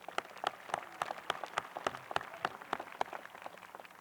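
An audience at a school graduation ceremony claps steadily and densely for several seconds, a continuous patter of many hands heard from a moderate distance with no voices over it.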